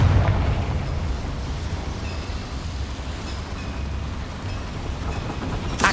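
A Confringo spell explodes in the video game Hogwarts Legacy, a loud, sustained rumbling roar with a crackling, rain-like hiss that holds steady for several seconds before a sharp burst at the very end, with no talking.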